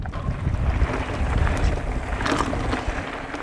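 Steady wind roars and buffets a microphone during a mountain bike ride on Richfield, Utah trails, loud and continuous broadband rushing with gusty swells and no talking.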